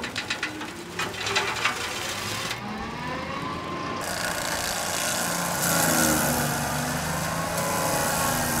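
A John Deere 4052R tractor driving a brush mulcher through cedar trees roars steadily and loud at close range, with sharp rattling bursts of wood being chewed early on before settling into a continuous heavy drone.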